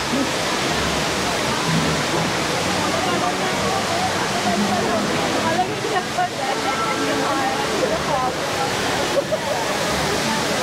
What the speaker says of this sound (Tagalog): Parang waterfall ano?